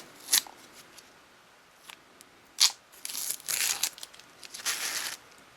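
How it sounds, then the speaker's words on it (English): Press and seal plastic wrap and tape being peeled off an AR-15 part during hydro dipping: a few sharp crackling rips, then longer sustained tearing and crinkling, close and clear with no talking. "I pull the press and seal off, pull this tape off right here"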